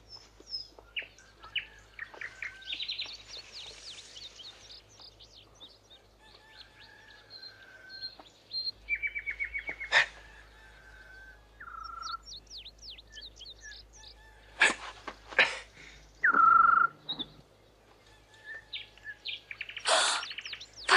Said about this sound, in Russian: Соловья слушаю.